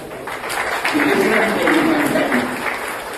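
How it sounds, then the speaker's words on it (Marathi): Loud, steady applause at a book launch ceremony at a college in Atpadi fills the whole stretch, a dense wash of clapping with some voices mixed in underneath. "जोरदार टाळ्या"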